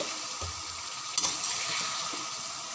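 Butter stirred into karahi gosht over a medium-high flame, a steady sizzle with a few scraping and clattering stirs of the spoon against the pan.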